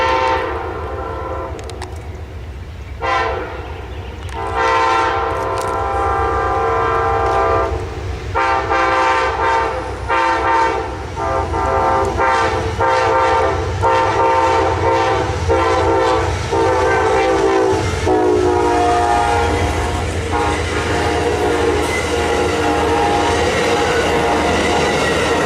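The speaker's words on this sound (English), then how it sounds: "the Amtrak Silver Meteor flew through town with possibly one of the greatest horn shows" Amtrak Silver Meteor passenger train roaring close through a small town, its horn blasting in a long, repeated sequence of loud sustained chords over the steady rumble of passing cars.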